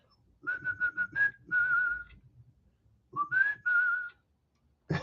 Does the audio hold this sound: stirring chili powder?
no